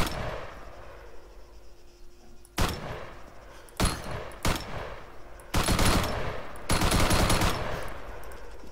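An automatic rifle in Arma 3 fires several loud full-auto bursts, short at first, then longer sustained strings of rapid shots, with quiet gaps between them.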